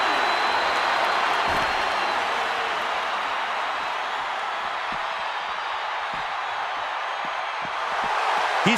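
A wrestling arena crowd in WWE 2K24 roars in a steady, broad wash of cheering and applause that holds throughout at moderate loudness.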